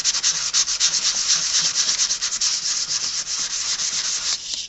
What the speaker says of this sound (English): I just want to sand it until the finish starts to come off.